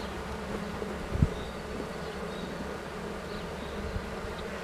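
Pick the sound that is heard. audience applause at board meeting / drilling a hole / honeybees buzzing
honeybees buzzing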